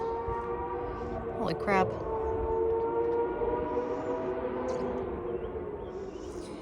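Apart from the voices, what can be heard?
several bikes racing down a hill in the distance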